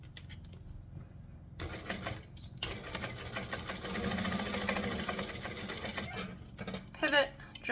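A sewing machine runs in short bursts of stitching and back stitching, a close mechanical whirr that starts and stops with brief pauses, and a voice speaks softly between the runs.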